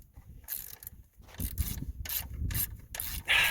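Close mechanical rubbing and ratcheting while a long bolt is tightened on a 6.4L Powerstroke engine during a wiring harness replacement, coming in repeated short bursts of wrench clicks and scraping with no talk.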